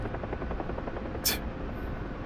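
A UH-1H Huey helicopter flying in the DCS flight simulator makes a steady, close rotor drone with soft rhythmic blade thumping and one brief sharp swish partway through.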